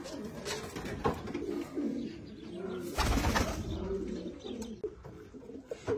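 Racing pigeons in a loft coo in soft, repeated low calls, close by, with occasional chirps, wing rustles and a few sharp knocks throughout.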